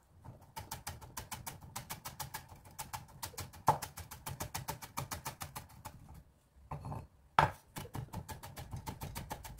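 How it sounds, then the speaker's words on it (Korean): A knife mincing scallion and garlic on a cutting board gives rapid, even chopping taps close by, in brisk runs with a short pause and a couple of louder knocks. "이제 파마늘을 다져 양념장을 만들어 보도록 하겠습니다."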